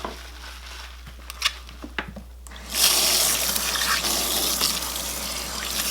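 Running water rinsing shampoo out of hair, a few soft knocks and handling sounds, then a sudden loud, steady gush of flowing water that carries on to the end, close by and without speech.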